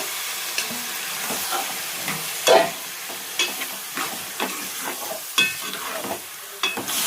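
Chicken for curry frying and being stirred in a pan, a steady soft sizzle broken by repeated scraping stirs and clatters of the spoon, close up with no talk.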